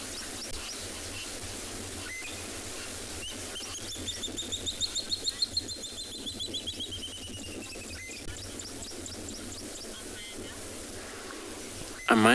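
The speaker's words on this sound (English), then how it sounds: "listening to all bird sound here." Birds chirp and sing at sunset on a safari, with a rapid series of clear tweets standing out against a low, steady rumble of wind or a boat engine, and no talking until a brief bump at the very end.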